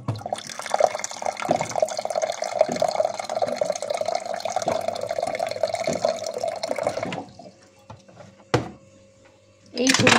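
Water runs steadily from a tap into a pot for heating for about seven seconds, a continuous splashing rush that then cuts off, followed by a few brief clinks and handling sounds in a kitchen in Ooty.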